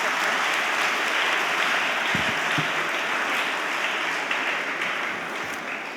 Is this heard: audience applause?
yes